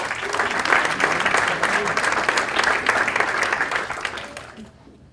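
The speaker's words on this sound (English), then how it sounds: "Round of applause for Ed." A breakfast audience breaks into steady applause, a dense wash of many hands clapping loudly for about four seconds before thinning and fading out near the end.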